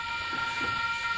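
A passenger train pulls into a platform at a small Sydney-area rail station on the line toward Hawkesbury River, a steady loud rumble with sustained high tonal squeal, no talk.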